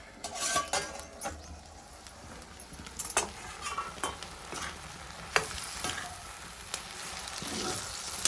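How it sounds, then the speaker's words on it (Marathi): A spoon stirs brinjal curry (vangyachi bhaji) in a pan, giving several irregular scraping clinks over a soft, steady sizzle, close and moderately loud, with no talking. "ढवळून एकदा बघूया"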